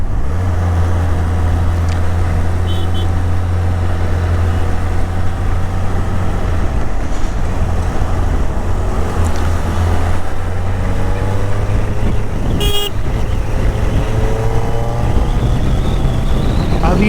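A Suzuki Hayabusa motorcycle engine accelerating in second gear through traffic, a loud continuous rising drone with steady rider-level wind rush throughout, the pitch climbing as revs build.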